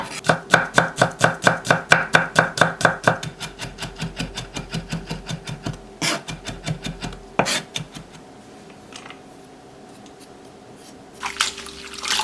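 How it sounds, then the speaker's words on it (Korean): Two whole garlic cloves minced with a knife on a board: fast, even rows of close, crisp chops that thin out into a few scattered taps and scrapes. "통마늘 2개도 다져서 담고"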